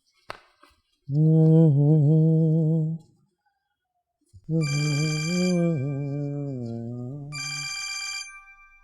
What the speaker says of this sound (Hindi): यार ये किस टाइम पे फोन आ गया।